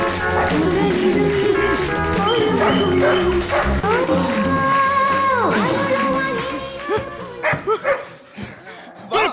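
A dog barks and yips repeatedly during a comedy stage sketch, loud and close, mixed with voices and music-like tones, thinning out into brief bursts toward the end.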